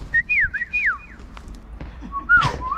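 A person whistles a rising and falling two-tone call a few times, loud and close outdoors, with a breathy, uneven pitch as if still trying to get it right, amid light ambient noise.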